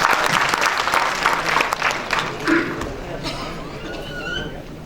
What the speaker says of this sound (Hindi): श्री अरविंद पथिक, अब 2000 तालियों से इनका स्वागत है।